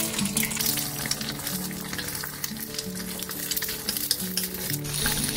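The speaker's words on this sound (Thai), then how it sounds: "พอเขาเริ่มเซตตัวเราก็ตีเขาให้แตกๆเนี่ยนะคะ" Eggs frying in a pan are broken up and stirred with a utensil, a bright steady sizzle with light scraping and tapping against the pan, close and uninterrupted.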